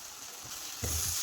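Ground turmeric, chili powder and coriander powder sautéing in a pan for a chickpea masala curry, a steady close sizzle with a louder burst of frying and stirring partway through, no talk.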